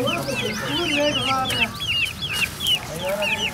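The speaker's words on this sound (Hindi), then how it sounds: "ये हमारे मुर्गे, ये नई नस्ल black Shamu, red Shamu, white Shamu," Aseel roosters and hens clucking close by, a busy overlapping stream of short calls from several birds at a backyard poultry setup.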